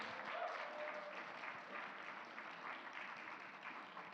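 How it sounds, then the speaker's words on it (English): Faint, distant applause from a church congregation, a steady wash of clapping that continues evenly throughout. "Does he deserve another round of applause"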